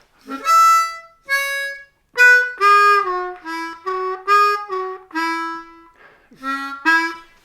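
Harmonica notes rise in a quick glissando up to the 6 hole blow at the start, then continue as a bluesy major pentatonic phrase of short, bright notes with small gaps, played solo and close.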